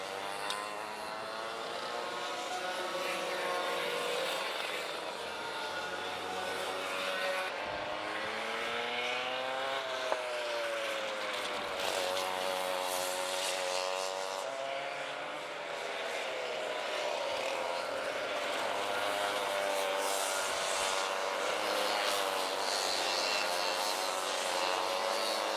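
Kart engines of young drivers aged 8 to 12 racing in a heat at Fulbeck, a steady droning whine with shifting, rising and falling pitch sustained throughout, fairly loud and continuous as several karts pass.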